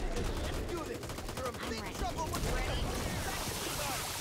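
Rapid bursts of gunfire in the zombie shooter game Back 4 Blood, dense crackling shots over game noise with a voice talking.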